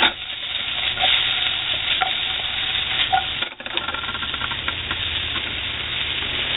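Onions and mushrooms fry in a pan for a morning omelet, a continuous close sizzle with brief stirring scrapes and a short dip midway, no talking.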